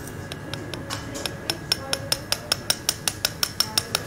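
A surgical hammer taps a titanium plate into place on the vertebrae during spinal surgery in an operating theatre: a long, steady series of sharp metallic taps that start soft and grow louder and quicker, with no talking.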